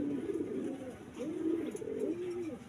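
Racing pigeons coo in low, rolling repeated calls, several overlapping phrases close by over a faint background hiss.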